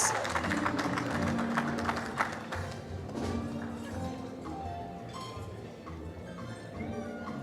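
Applause and scattered clapping from an audience at a 2023 staff awards ceremony, steady and fairly close, with crowd noise and a few voices mixed in.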